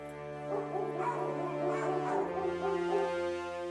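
A pack of domestic dogs barks and yips at a mountain lion at the edge of human territory north of Los Angeles. The barks overlap with whining tones under a steady background hum.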